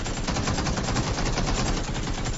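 Rapid sustained automatic gunfire in PUBG, a dense unbroken burst of rattling shots that fills the whole stretch, loud and close with no talking.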